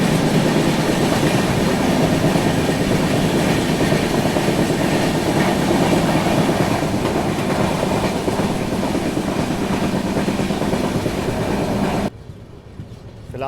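Inside the Shree Shakti AC Express, a steady loud rumble of wheels on rails runs continuously, with a faint rhythmic clatter, then drops quieter near the end.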